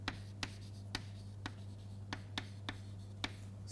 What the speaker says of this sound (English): let me write the full form here